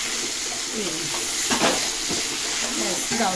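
Spices, green chilli, radhuni and turmeric fry in a pan for a Bengali bottle gourd and prawn curry, a steady sizzle with stirring scrapes and faint background voices and bird calls.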